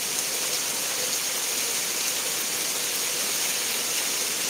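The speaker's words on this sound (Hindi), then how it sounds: "बहुत जोर से बारिश हो रहा है।" Heavy rain pours steadily outside, a dense uniform hiss with no breaks, fairly soft and unaccompanied by voices.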